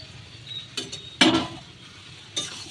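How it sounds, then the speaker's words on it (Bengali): Fried potol and potatoes tipped into a pan of sizzling masala and stirred, giving a few short scraping, clinking bursts over a soft background hiss, close and fairly quiet. "ভেজে রাখা পটল আলুগুলো এবার আমি দিয়ে দিচ্ছি।"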